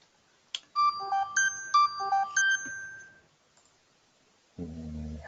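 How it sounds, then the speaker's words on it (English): A mobile phone ringtone plays a short melodic tune of repeated bright electronic notes for a few seconds, fairly clear and alone, followed by a brief low sound at the end. "No, sorry, that was my phone ringing."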